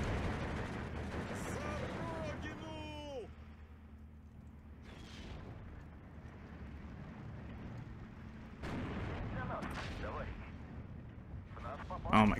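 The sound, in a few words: artillery fire in Steel Division 2 video game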